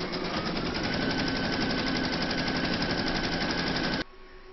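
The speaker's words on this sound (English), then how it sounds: "Pop your hoop into your machine and stitch round number one for your placement outline." Embroidery machine running a placement outline stitch on a hooped layer of washaway stabiliser, a loud, steady rapid needle clatter that continues without a break for about four seconds, then stops abruptly.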